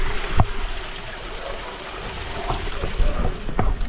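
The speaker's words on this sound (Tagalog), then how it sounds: "natuloy na itong tubig galing yan sa bundukan. Kasi bundok dito sa taas namin yan lakas ng agos" A strong stream of water runs down from the mountains in a continuous rushing wash with a few knocks and splashes. It is close and fairly loud, with faint voices in the background.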